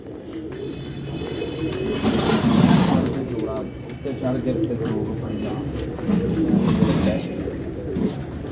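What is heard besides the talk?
pigeons cooing on a rooftop pigeon club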